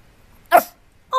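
A dog lets out one short, sharp bark close by, and a second bark starts just as the sound ends, with quiet around them.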